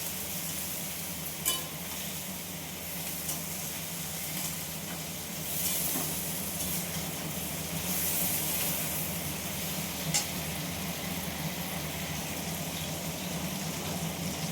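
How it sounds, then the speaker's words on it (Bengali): Ivy gourd (kundru) frying in a wok, a steady close sizzle with occasional soft clinks of stirring, heard alone without talk. "কুঁদরিগুলো আবার আমি একটু নেড়ে চেড়ে একটু ভালো করে বেশ ভাজা করে নেব"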